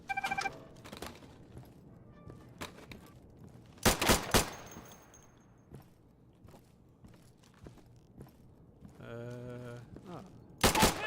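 Gunfire in an Insurgency close-quarters training exercise: sharp, loud bursts of rapid shots at intervals, separated by quieter stretches with footsteps and faint room noise.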